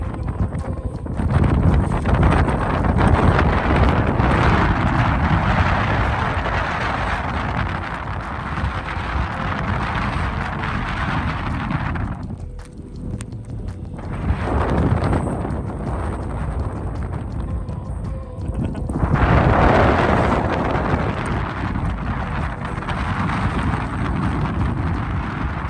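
Strong gusting wind buffeting the microphone on the summit of Pen y Fan mountain, a loud, roaring, continuous rush with two brief lulls between heavy blasts.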